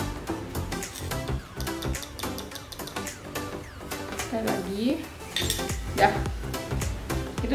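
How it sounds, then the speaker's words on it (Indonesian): A spoon stirs a sweetened milk mixture in a pot for Umm Ali, the Middle Eastern dessert, with steady clinking and scraping of metal against the pot throughout. "Kita aduk sampai rata, nggak usah sampai mendidih, yang penting keaduk rata aja."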